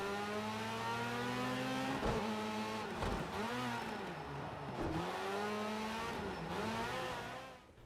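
Race car engines in the Project Cars 2 video game scream at high revs in continuous loud play, with repeated gear shifts dipping and climbing in pitch and no talk.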